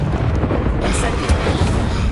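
An Incendio fire spell cast in the Hogwarts Legacy video game, a loud dense whooshing burst of flame with rumbling, booming low end, heard close and under a voice speaking.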